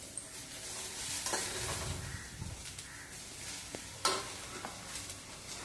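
Coriander leaves and green chillies are stirred in a pan for a chutney, giving a soft sizzle with scraping spatula strokes and a few sharper clinks, fairly quiet.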